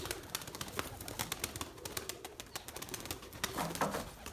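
Purebred Erzurum white pigeons coo softly and faintly in a loft, with scattered clicks, shuffling and occasional wing flutters throughout.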